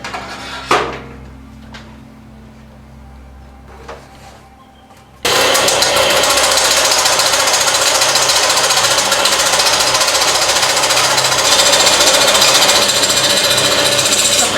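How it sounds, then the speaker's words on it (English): A 6090 CNC router machines a flat melamine board: after a quiet spell with a few clicks, a loud, steady grinding roar of the cutter begins and continues without break, close by. "I'll show you the machining of it right now"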